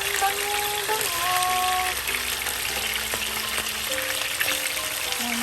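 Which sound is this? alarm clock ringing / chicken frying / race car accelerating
chicken frying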